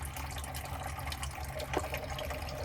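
Water from a water filter pours steadily into a coffee pot, a continuous close splashing and gurgling flow that holds at an even level throughout.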